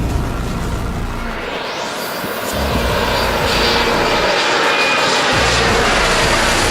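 Loud, steady roar of an airliner's engines at climb with a failing fan on British Midland Flight 92, a sustained broadband rush that swells slightly partway through and holds without a break.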